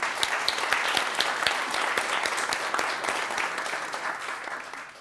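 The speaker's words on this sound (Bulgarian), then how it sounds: "моля за вашите аплодисменти за Митко Драганов" Steady applause at a book premiere fills the room for editor Mitko Draganov, dense and sustained clapping throughout with no voices over it.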